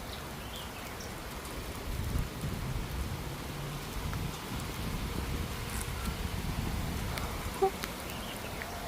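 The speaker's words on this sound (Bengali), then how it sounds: "প্রচণ্ড বৃষ্টি পড়তেছে।" Heavy rain falls steadily across a park, a dense continuous hiss of drops on the ground and surfaces with a few louder splashes, and no voices.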